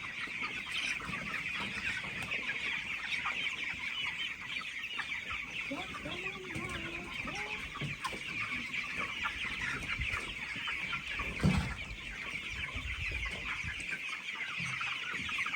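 Chickens cluck on a small farm in Jamaica, scattered soft calls layered over constant steady outdoor noise and a high insect-like hiss, with faint distant activity throughout.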